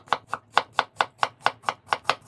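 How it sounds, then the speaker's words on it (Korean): A knife chops a pear into thin flat slices on a cutting board, about ten crisp, evenly spaced strikes in quick steady rhythm, close and clear with no talking. "배 1개는 가장자리를 잘라내고 나박하게 썰어주시고"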